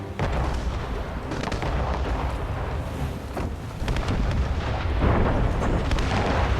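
Ship cannons firing in Assassin's Creed Rogue, a dense rumble of booming artillery blasts with wind and sea noise, loud and continuous with no talk.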